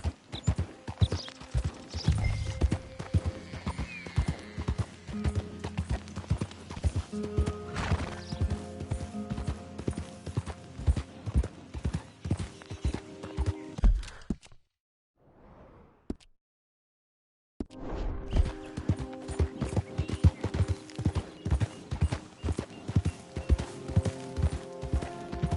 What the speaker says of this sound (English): that's one nice-looking horse you got there